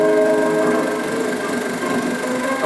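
A steel train races along the rails on a journey from Switzerland through Germany to St. Petersburg, giving a steady, loud rolling rumble with sustained tonal hums throughout.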